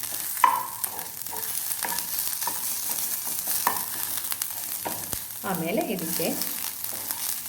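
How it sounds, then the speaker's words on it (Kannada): Vegetables fry and get stirred in a pan for a Chinese bhel, a steady sizzling hiss with scraping stirs, and a person briefly talks over it. "ಇದನ್ನು ಫ್ರೈ ಮಾಡ್ಕೊಳ್ಬೇಕು"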